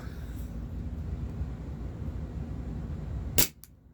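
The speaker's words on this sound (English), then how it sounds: "Shot number 31, take 2." A Taurus PT24/7 G2 airsoft pistol by Cybergun fires a single sharp, loud shot near the end, with a quick faint echo right after, against a low outdoor background rumble during velocity testing.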